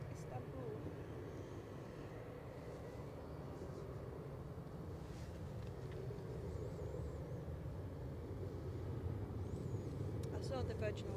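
A Turkish Airlines jet from Istanbul comes in to land at Edinburgh airport, its broad, steady engine roar rising slightly as it nears, heard at a distance, continuous and low-pitched throughout, with faint voices nearby.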